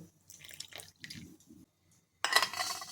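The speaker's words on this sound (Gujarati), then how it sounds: "આંબલી ડૂબે એટલું પાણી આપણે અહીંયા આંબલીમાં એડ કરીશું" Quiet kitchen clatter and faint drips, then water is poured over tamarind in a container in a short, splashing stream up close.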